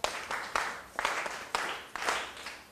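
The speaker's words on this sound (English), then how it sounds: "Let's clap for Leticia." A classroom of students claps for a classmate in several short, rhythmic bursts, loud and close, with no talking over it.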